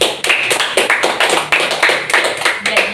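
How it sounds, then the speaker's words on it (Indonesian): Classmates applauding in a school group guidance session: brisk, steady clapping from a small group of hands, loud and close, with a dense rhythmic patter that carries on evenly for a few seconds. "Kita berikan aplaus."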